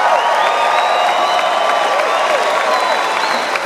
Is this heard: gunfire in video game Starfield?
no